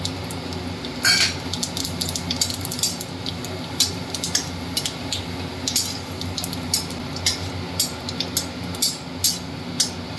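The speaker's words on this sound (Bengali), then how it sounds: "আর দুটো তেজপাতা ফোড়ন দিচ্ছি। এবার সাদা জিরে" Bay leaves and white cumin temper in hot oil, a steady close sizzle broken by sharp, repeated metallic clinks of a spoon against the pan.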